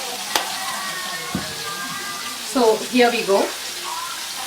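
Oil heats for tempering in a small kadai while making capsicum chutney, giving a steady soft sizzle through the whole stretch, with a voice talking over it in the latter half.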